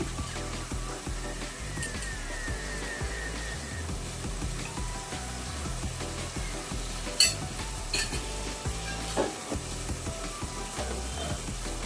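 A spoon stirs chicken pulao masala with chili powder in a pan, producing steady scraping and rhythmic clinks over a constant sizzle, with one sharp metallic knock partway through.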